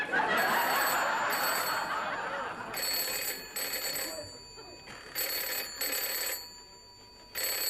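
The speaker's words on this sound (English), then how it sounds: "Go answer the phone, Jonesy." A telephone rings in repeated bursts of bright, metallic trilling, fairly close, with a low voice and room noise underneath.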